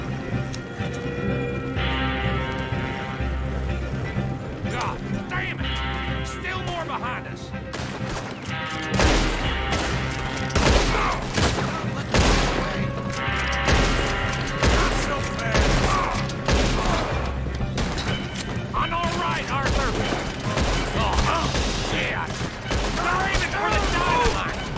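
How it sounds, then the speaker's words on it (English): Gunfire shootout in the video game Red Dead Redemption 2, with repeated loud shots and bursts over galloping horse hooves and dense game music, building from about nine seconds onward. "Shoot 'em, Arthur, before they blow us to high hell"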